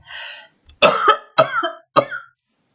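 A short run of harsh, close coughs, three or four bursts in quick succession after a brief breathy sound, with silence between.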